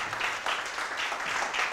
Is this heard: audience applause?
yes